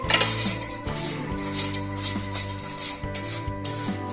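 Food being tossed and mixed in the metal basket of a Koryo 2.6L digital air fryer, with a series of scraping, clinking strokes in an irregular rhythm, close up and clear.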